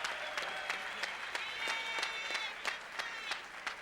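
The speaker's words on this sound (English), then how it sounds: "let's give both these gladiators a round of applause for a very gallant effort." Crowd at a boxing event applauds both fighters after a close bout, a steady wash of clapping with distinct rhythmic claps near, some cheering voices in the mix.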